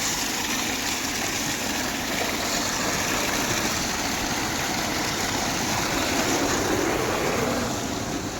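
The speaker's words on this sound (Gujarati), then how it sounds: "ચાલો, મોટર ચાલુ થઈ ગઈ છે" A farm water pump motor runs in a field, pumping water, a steady loud broadband rushing drone that holds constant throughout with no speech.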